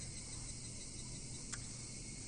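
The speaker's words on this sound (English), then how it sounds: "Only the cry of the cicadas remained annoyingly loud." Cicadas crying in the visual novel game Higurashi, a faint continuous shrill drone with no talk over it and one brief sharper chirp partway through.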